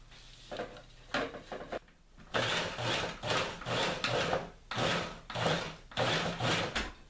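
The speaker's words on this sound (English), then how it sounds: "I'm just going to roughly chop this because my goal is to get it into the food processor" Rough chopping with a knife on a cutting board, preparing filling for Asian dumplings: a run of dull repeated thuds and scrapes, several quick bursts close by with short pauses between, no talking.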